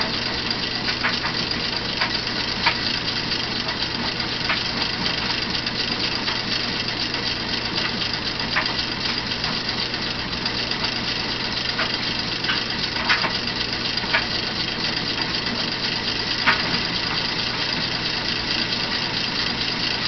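A homemade Newman motor spins continuously with a steady mechanical whir and hum, close and even, with faint irregular ticks scattered through it.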